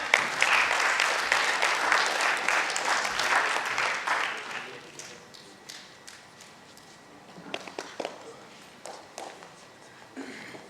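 Loud audience applause after a stage play, dense clapping for about four seconds that thins into scattered claps and light taps, with a voice speaking faintly alongside.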